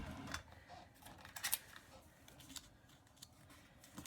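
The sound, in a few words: scissors trimming a photo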